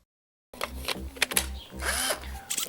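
An old cordless screwdriver upgraded to 18650 batteries whirs in several short bursts with a clear motor whine, pausing briefly between each run, close up and alone.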